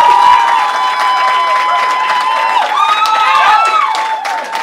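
Audience applause and cheering at a Quebec Liberal Party leadership debate, a dense steady crowd roar with some tonal whoops and voices mixed in, sustained throughout at fairly loud level.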